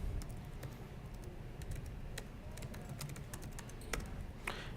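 Someone types on a computer keyboard, a steady run of close, crisp key clicks with irregular rhythm and occasional heavier strikes, over a quiet room background with no talking.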